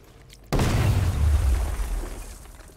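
A sudden loud explosion in the video game Batman: Arkham Knight hits after a quiet moment, then rumbles with a deep low roar that slowly fades away.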